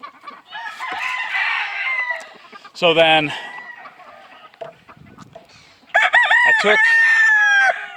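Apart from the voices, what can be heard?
single-barred cuckoo rooster crowing and clucking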